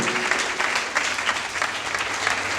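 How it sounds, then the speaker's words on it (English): A church congregation claps during a worship service, steady dense applause throughout, fairly loud and close, with no voices standing out. "Clap for Jesus, somebody."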